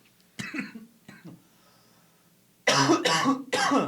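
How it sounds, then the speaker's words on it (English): A couple of soft coughs early on, then a burst of three loud, harsh coughs in quick succession close to the listener. "Don't cough."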